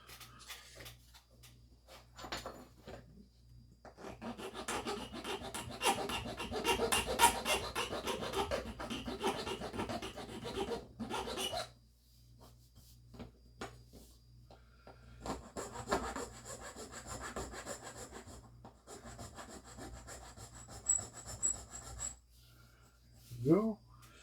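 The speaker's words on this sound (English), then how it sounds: "Let's go ahead and file these flat." Rhythmic rasping strokes of a file on small metal parts of a 1975 Hot Wheels die-cast toy van, in two long bursts separated by a pause, fairly close and steady.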